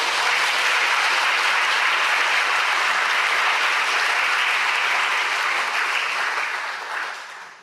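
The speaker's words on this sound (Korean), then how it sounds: "그 일을 위해서 우리 격려 박수를 좀 보내주시면 감사합니다." A church congregation at a Friday prayer meeting gives steady, full applause of encouragement, a dense uniform wash of clapping that holds evenly before tapering off at the end.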